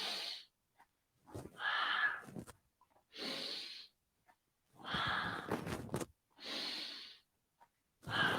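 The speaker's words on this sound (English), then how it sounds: "Work with the breath." Slow, deep breaths during a beginners yoga side stretch: five or six long audible inhales and exhales through the nose and mouth, close and quiet, separated by short silences.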